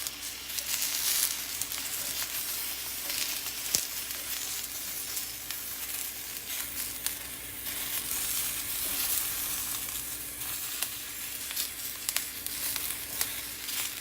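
Jalapenos and tomatillos roasting in a hot pan give a continuous dense sizzle and crackle, steady and close, with a few sharper pops throughout and no voices.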